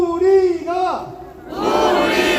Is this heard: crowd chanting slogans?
yes